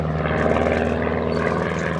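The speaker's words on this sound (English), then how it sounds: "Beautiful performing aerobatic aircraft." Bücker Jungmann biplane performing an aerobatic display at Flying Legends 2018, its propeller engine droning steadily and loudly overhead with a throbbing, buzzing tone throughout.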